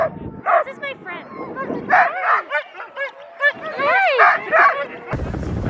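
Excited dogs bark, yip and whine in rapid overlapping bursts close by outdoors in snowy Lapland, loud and continuous, with a person's voice briefly mixed in.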